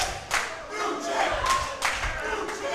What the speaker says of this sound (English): There's a crowd already calling for a new champion.